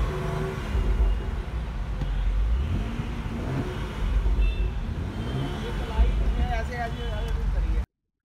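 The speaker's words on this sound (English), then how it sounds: "Let's rev it up." A BMW Z4 hardtop convertible engine revs up from idle, a steady loud rumble with swelling pitch rises, near and continuous, as a voice talks over it.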